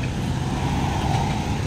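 Car passes along a street near a residential development, a steady loud engine and tyre rumble close by that holds level for the whole short stretch.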